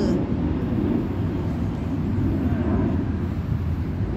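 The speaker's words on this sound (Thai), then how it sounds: "พี่น้องได้ยินเสียงเครื่องบินบ่พี่น้องเสียงดังหน่อยเด" An airplane drones overhead as a steady, loud low rumble that stays constant throughout, heard outdoors at a shrine site with no distinct events breaking the noise.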